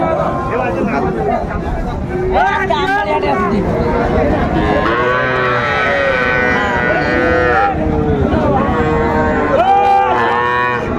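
Cattle, young bulls, moo loudly and repeatedly amid a noisy crowd, with constant chatter and voices all around at a busy cattle market in Bangladesh.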